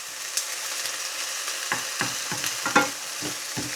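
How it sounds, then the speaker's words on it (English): Ratatouille vegetables fry on moderate heat in a pan, a steady close sizzle broken by a series of short scraping stirs that grow more frequent toward the end. "Just a matter of tiddling it around the pan."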